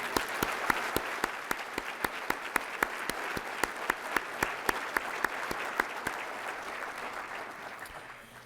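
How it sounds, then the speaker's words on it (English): Applause for the family at a Wreaths Across America ceremony in Fitchburg, Massachusetts. A crowd claps steadily for several seconds, with one sharp, regular clapper standing out in a fast even beat, before the sound tapers off. "ladies and gentlemen, a round of applause for the family."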